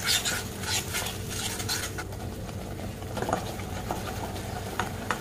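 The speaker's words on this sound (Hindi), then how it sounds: "हाई फ्लेम रख के इसे लगातार चलाते रहेंगे।" Malai soya chaap gravy with curd and oil or butter stirred continuously in a pan over high flame, a dense steady bubbling sizzle with scraping and clinking of a spoon against the pan throughout.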